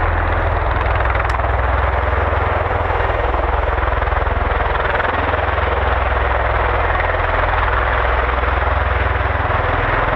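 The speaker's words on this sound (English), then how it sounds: "we got some sort of movement now with the Osprey. It's going to be another conventional takeoff" Osprey tiltrotor aircraft beginning a takeoff at RAF Mildenhall, a steady, loud rotor and engine roar with a deep low rumble holding evenly throughout, heard alone without talk.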